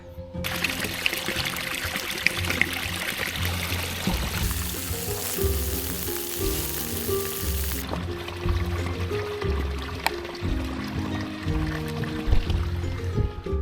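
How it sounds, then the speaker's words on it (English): Water pours and gurgles steadily from a nearby spring, a constant bubbling trickle with shifting splashy tones throughout. "The water is appearing from somewhere under the ground and flowing."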